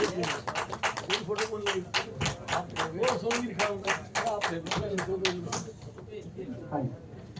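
Audience applause at an Ambedkar Jayanti award ceremony in Janpath, New Delhi: a long run of dense, steady hand clapping from a crowd, loud and continuous, with a voice speaking over it before fading near the end.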